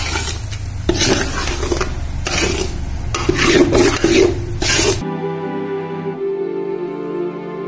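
Semolina roasting in a pan for panjiri, a dry scraping stir with bursts of rasping spoon-on-metal strokes for about five seconds, then the sound cuts to a quieter steady tone.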